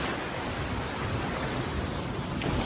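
Small waves lap continuously on a nearly calm sea along a rocky coastal trail near Aktau, Kazakhstan, a steady wash of surf with some wind noise and no voices.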